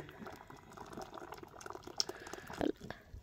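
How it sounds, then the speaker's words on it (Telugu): Melted jaggery for sesame ariselu is poured into a vessel with faint, thick liquid gurgling and a couple of soft splashes near the end, quiet and close. "ఈ కరిగిన బెల్లాన్ని ఇగో ఇందులో పోతున్నా."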